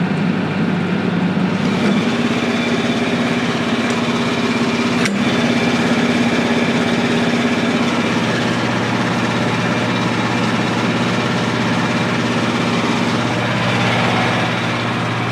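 An OS23 sawmill engine idles steadily while it warms up, a continuous loud running drone with no talk, its pitch stepping slightly about halfway through.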